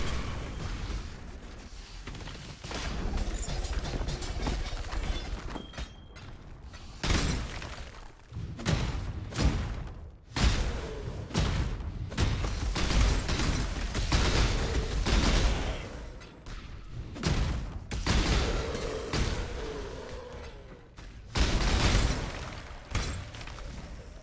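Repeated explosion bursts and thuds from Path of Exile gameplay, loud irregular booms in quick clusters separated by short gaps, with no one talking.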